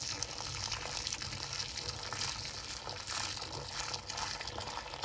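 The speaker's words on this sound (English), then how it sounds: "And so slowly pour hot water, boiling hot, right?" Boiling hot water is poured slowly down a clogged sink drain, making a steady close splashing and gurgling rush without any talk.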